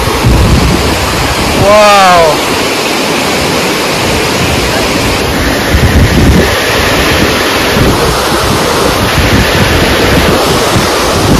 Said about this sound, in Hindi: कितना मस्त झरना